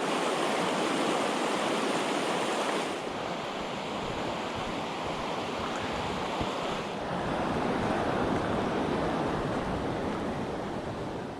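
A glacial river flows into a lake below Bow Glacier Falls, a broad, continuous rushing roar, heavy and steady, with wind buffeting the microphone at times.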